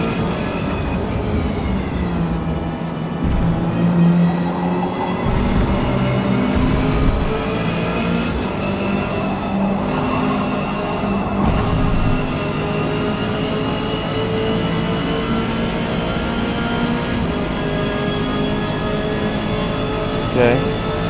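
A race car in Forza Motorsport laps the Spa circuit, its engine whining through rising and falling gear pitches in a continuous loud drone, with speech heard briefly along the way.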